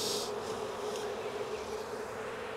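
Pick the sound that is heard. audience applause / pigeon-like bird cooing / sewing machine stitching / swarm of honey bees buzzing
swarm of honey bees buzzing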